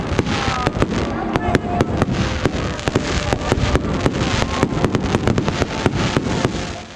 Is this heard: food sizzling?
no